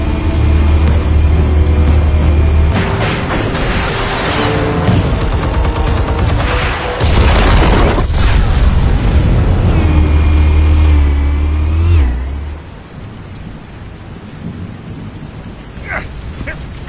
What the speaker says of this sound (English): Explosives armed.